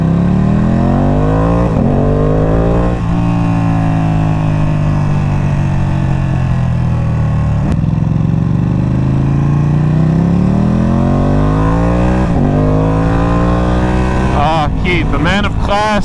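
Ducati Panigale V2 special edition motorcycle running hard with a GP-pattern shift, its loud engine climbing and dropping through gears in rising sweeps, close and continuous, with wind rush and a brief voice near the end.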